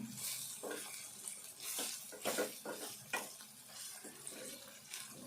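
Cabbage and tomato curry fries in a little oil in a pan, a steady soft sizzle with occasional stirring scrapes and clinks, close but fairly quiet.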